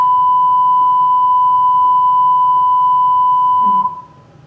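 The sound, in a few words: censor beep in a video game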